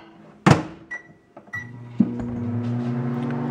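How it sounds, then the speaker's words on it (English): A microwave oven warming bread for pain perdu: a sharp thunk of the door, a few beeps and clicks, then a steady low running hum that continues alone. "And then I'm going to heat it up in the microwave oven."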